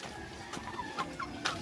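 Chickens clucking in a backyard flock, several short clucks and calls scattered over a steady outdoor background, moderately close.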